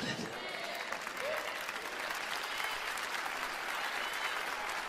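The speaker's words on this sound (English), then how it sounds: "Let me thank those 17 people for that rousing applause." Church congregation applauding during a sermon, a steady patter of clapping that holds evenly for several seconds at moderate distance, with some voices mixed in.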